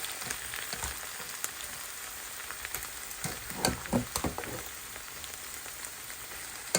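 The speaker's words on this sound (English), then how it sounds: "I'm putting in my white rice and then I mix them all together" White rice is stirred into a simmering vegetable stew, giving a steady soft sizzle with scattered wet scraping and stirring strokes, close and continuous with no talking.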